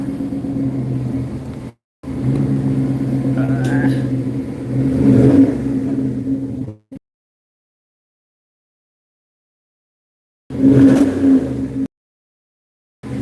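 A turbocharged manual car's engine idles with a deep exhaust drone and revs up in swells, loud and near, cutting out for several seconds before another brief rev.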